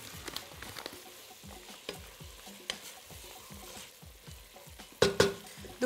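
Chicken pieces, sliced mushrooms and onions fry in a pan, a soft steady sizzle broken by repeated scraping stirs, close and without talk.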